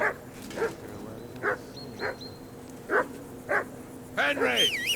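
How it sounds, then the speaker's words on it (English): A dog barks at a steady pace in the video game Kingdom Come: Deliverance II, about seven short moderately close barks, ending in a whimpering yip. "Get that mutt of yours to stop barking, will you?"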